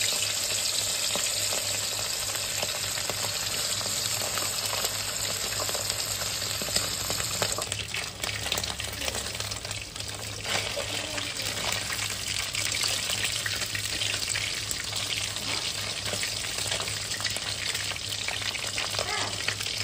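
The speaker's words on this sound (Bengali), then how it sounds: "তো এগুলো কড়া করে এখন আমরা ভেজে নেব।" Small pieces of chitol fish deep-frying in hot oil, a steady, dense sizzle and crackle that fills the whole stretch, loud and close, with a slight shift in texture partway through.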